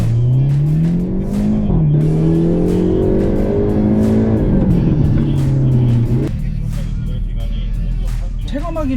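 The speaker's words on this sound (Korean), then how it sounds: "런치 컨트롤 방금 사용해봤는데 왕왕왕왕왕 런치 컨트롤 준비해서 브레이크 딱 떼면 왕 나갈 때" A Hyundai Avante N launches under launch control, its engine roaring loud and close as the revs climb steadily, dip at a shift around six seconds, then keep pulling hard with faint tire noise.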